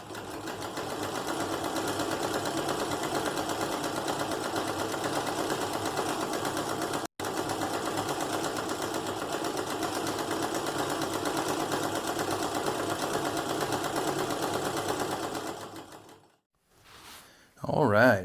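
An antique sewing machine runs steadily at high speed after oiling, a continuous close mechanical whir with one brief stop midway, then winding down at the end before a short restart.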